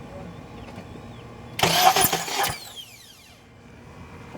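A Honda Element's starter cranks loudly for about a second in a burst of mechanical whirring. The engine fails to catch, and the noise drops back to a quiet hum.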